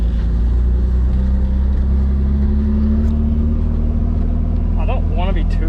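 Turbocharged BMW E36 on a test drive, its engine droning loudly and steadily from inside the car with a slowly rising pitch, while a person talks briefly near the end.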